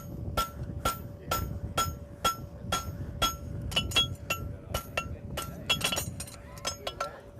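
A blacksmith hammers a draft horseshoe on an anvil in quick, overlapping strikes. Each blow rings out sharp and metallic over a steady ringing tone from the anvil, close and loud, sometimes in rapid clusters.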